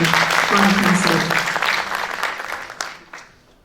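An audience at a class concert claps to welcome a speaker to the stage, a loud swell of applause with some voices mixed in that thins out and fades over a few seconds.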